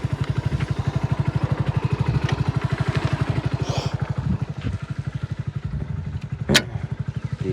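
A motor chugs steadily after starting at a well for pumping water, a close, rhythmic thumping pulse that runs throughout with a brief clatter near the end.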